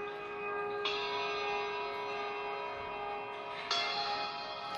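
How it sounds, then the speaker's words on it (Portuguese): Two struck Tibetan bell tones with long, shimmering sustained overtones; the second strike lands a few seconds after the first and rings on, clear and close. "Capte os sons do sino."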